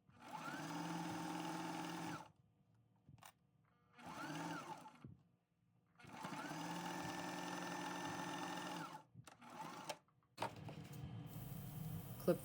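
A sewing machine stitches the lining of a snap-button keychain wallet with a 2mm stitch, running in three close, steady bursts of whirring with short pauses and clicks between them.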